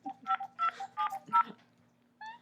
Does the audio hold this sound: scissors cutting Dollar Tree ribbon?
no